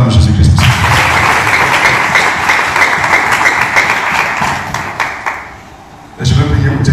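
A church congregation bursts into sustained applause and cheering during a prophecy service, a dense roar that fades briefly before surging back loud at the end.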